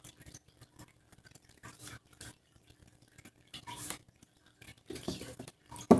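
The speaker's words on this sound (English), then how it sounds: "I'm just going to joggle the deck around a bit." A deck of tarot cards is jostled and shuffled by hand, giving soft, irregular riffles, taps and rustles, quiet and close, with no voice.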